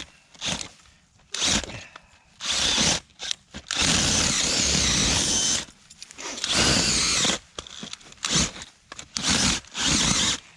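A power drill bores into the ground in several bursts of varying length, loud and close, with short pauses between them.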